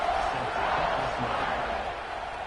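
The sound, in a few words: football stadium crowd cheering before kickoff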